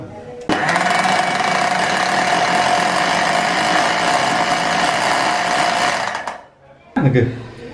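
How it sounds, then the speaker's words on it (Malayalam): A kitchen mixer grinder blends rice flour with leaves for puttu: a loud, steady motor whir that starts abruptly, runs for about six seconds, winds down, then gives a brief second burst. "ഇനി ഇത് നമ്മള് മിക്സിയിൽ അടിക്കുന്നു കേട്ടാ"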